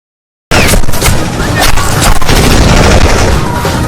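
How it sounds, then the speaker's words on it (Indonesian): Heavy gunfire in a film erupts at a wedding after a brief silence, a dense barrage of loud bangs and booming shots continuing without pause, with muffled voices mixed in. "Saat Pijay dan Kali menikah, tiba-tiba ada tembakan dari anggota Kanca."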